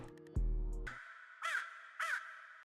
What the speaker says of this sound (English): when I played it, it's like this crow sound